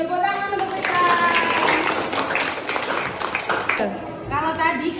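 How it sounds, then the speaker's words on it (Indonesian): A classroom of students claps for a classmate, Fitran, with a scattered burst of hand claps mixed with children's voices and a teacher talking over the noise. "Tepuk tangan untuk Fitran."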